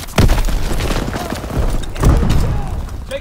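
Artillery shells in the video game Call of Duty: WWII land as two heavy, loud booms about two seconds apart, each followed by a rumbling tail and debris clatter.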